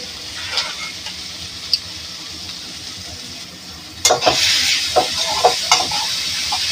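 Fish curry paste for a catla fish and onion curry is stirred into hot oil in a pan, a soft steady sizzle with scraping stirs that grow louder and busier in the second half.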